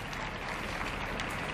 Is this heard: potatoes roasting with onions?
no